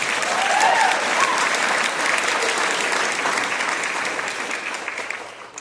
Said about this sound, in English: You can give them another round of applause.